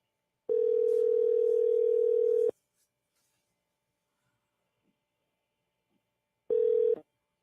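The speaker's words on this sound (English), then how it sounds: "Let's make a phone call because someone called during the middle of that one." A steady telephone dial tone sounds for about two seconds, then after a silent gap a second short burst of the same tone returns as a phone call is being placed.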